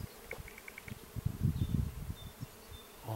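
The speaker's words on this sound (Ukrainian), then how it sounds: "Чуєте, як бджоли гудуть?" Bees buzzing around a blossoming cherry tree outdoors, a steady low drone from many insects that swells louder in the middle, with a few faint birdlike chirps early on and no talking.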